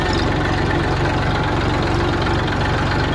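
A parked tractor with its lights on idles at night, its engine throbbing in an even, steady, loud rhythm close by, with no talk.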